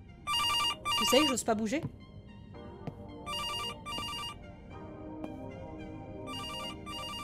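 A telephone rings in a horror video game: repeated electronic ringtone bursts, loud and close, separated by short gaps, while someone speaks over part of the ringing.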